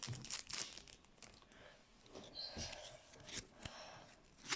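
The foil wrapper of a holographic football trading card pack crinkles and tears in quick, close, faint rustles, with brief pauses between pulls.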